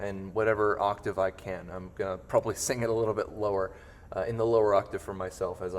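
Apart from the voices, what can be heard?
No everyday noise stands out behind the speech.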